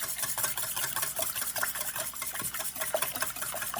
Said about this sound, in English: I'm going to start my whisk very slow and small